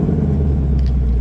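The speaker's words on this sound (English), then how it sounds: "if you come like this with your 2024 Mustang, lock, and 2 times it starts" A 2024 Ford Mustang GT convertible engine idles after a remote start, a steady close low rumble with no talk over it.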